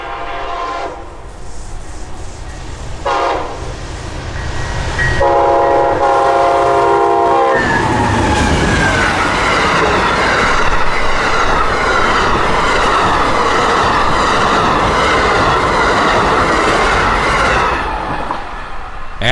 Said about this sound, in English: Amtrak 97 was crossing the St. Johns now